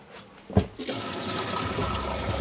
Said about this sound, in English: Hand basin taps work in there